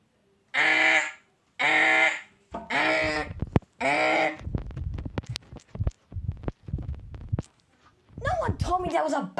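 A backup siren blares in four loud, evenly spaced wailing bursts, followed by clattering, rustling noises and a shout near the end.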